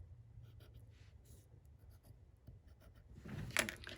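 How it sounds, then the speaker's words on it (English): Pencil scratching on paper while marking a placement on a junk journal page, soft intermittent strokes close up, with a slightly louder burst of scribbling near the end. "So put a pencil mark there so I can see where that's going to go"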